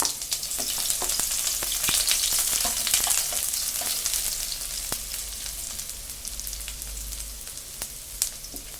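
Chopped onion and green chilli sizzle in hot cooking oil in a kadhai, a steady close frying crackle with scattered pops and occasional stirring clicks, no voices.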